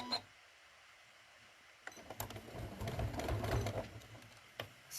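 A sewing machine stitches around the corner of a folded fabric star trivet in a short, steady burst that builds after a quiet start, close and moderately loud with small clicks.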